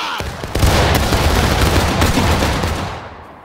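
Artillery cannon fire in the Civil War video game War of Rights, a loud, close blast with a heavy rumbling roll that sustains for a few seconds, joined by scattered crackling shots, then fades out.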